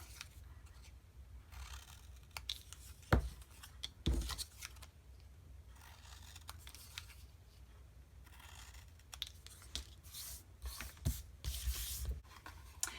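Scissors snip through paper for a Valentine's Day treat basket craft, a few quiet, scattered cuts and rustles close by, with sharper clicks near the middle and toward the end.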